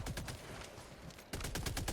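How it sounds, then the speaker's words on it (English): A machine gun sentry in a video game fires rapid repeated bursts, a dense rattling stream that briefly thins then resumes strongly, loud and close with no talk. "Machine gun sentry is still active."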